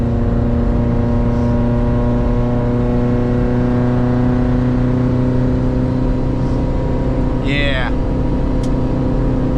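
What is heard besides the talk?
2013 Subaru WRX launch control start in the dirt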